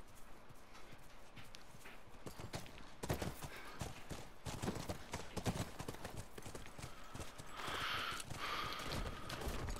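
Horse hooves clip-clop steadily on the ground in The Last of Us, a soft, fairly faint rhythmic patter that thickens and grows busier partway through.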